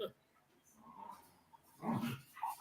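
Two dogs wrestling together nearby, giving short rough growls and grumbling snarls in scattered bursts, with a person talking quietly between them.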